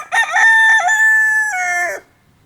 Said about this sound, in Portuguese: Como é que chama galo?